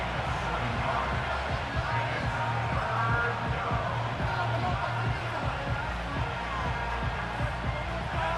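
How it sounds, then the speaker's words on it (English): A stadium crowd at a Commanders vs Patriots American football game keeps up a dense, steady roar of cheering and yelling, loud and unbroken throughout. "The crowd making their presence felt."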